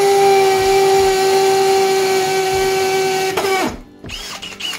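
A Milwaukee M12 Fuel FPD cordless drill runs alone with a steady high-pitched motor whine for over three seconds, then spins down and stops, followed by a few quiet handling clicks.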